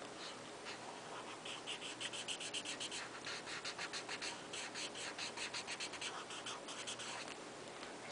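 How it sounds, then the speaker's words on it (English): A marker scrapes across paper while shading a pumpkin drawing, giving quiet, rhythmic back-and-forth scratchy strokes in rapid bursts, close and soft with no talking. "That way you won't just hear the marker scraping on the paper, but I kind of like that sound."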